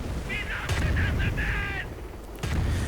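An anti-tank gun takes fire in a WWII strategy game, with two sharp, booming blasts about two seconds apart over a steady battlefield rumble and a brief tonal whine between them.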